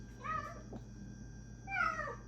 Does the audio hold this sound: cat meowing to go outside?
yes